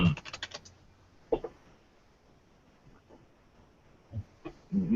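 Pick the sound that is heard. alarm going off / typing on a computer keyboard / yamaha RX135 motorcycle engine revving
typing on a computer keyboard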